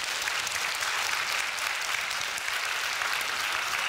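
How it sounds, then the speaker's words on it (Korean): Church congregation applauding during a sermon, a steady, dense wash of clapping that stays even and sustained for the whole stretch with no voices over it. "하나님께 박수합시다"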